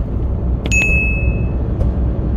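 A bright notification bell ding rings once over a low steady rumble, ringing out and fading over about a second.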